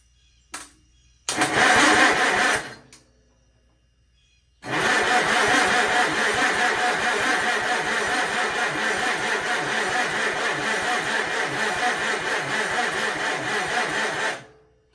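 Allis Chalmers D10 tractor engine cranking and trying to start, a short crank burst, a pause, then a long steady rhythmic cranking that never catches, close and loud; the tractor is a worn auction find with a suspect key switch and ignition.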